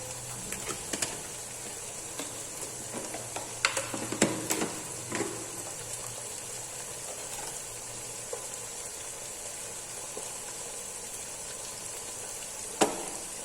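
Crushed red chili flakes fry in a pan while matar pulao is being cooked, making a steady, soft, continuous sizzle with a few faint clicks and taps from stirring.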